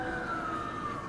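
A wailing emergency vehicle siren on a night highway near Sturgis, a steady drawn-out tone slowly falling in pitch, fairly distant but clear over low road rumble.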